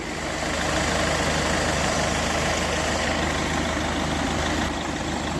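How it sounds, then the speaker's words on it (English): Rover 75 two-speed electric cooling fan running under the bonnet, a steady droning whoosh with a low hum beneath, continuous and fairly close throughout. "It's a 2-speed fan, so what I might do is just wait for it to kick in on its 2nd speed"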